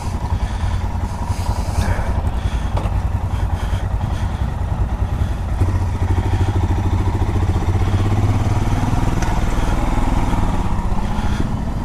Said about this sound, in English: And today I'm riding the Royal Enfield Himalayan.